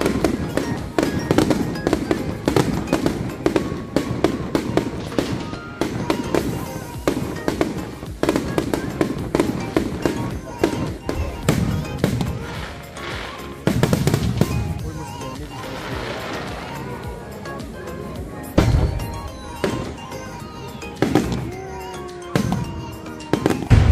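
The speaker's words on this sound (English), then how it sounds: "Fireworks, guys." Fireworks explode at the Fiesta of Our Lady of Snow in loud, dense, rapid bursts and crackles, with a few sharper booms later and faint voices in the background.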